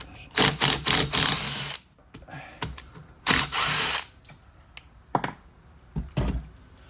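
A power tool, likely an impact wrench, spins a nut off a Harley-Davidson Softail, Dyna or FXR transmission in a series of short, sharp buzzing bursts of varying length, close and fairly loud, with quiet pauses between them.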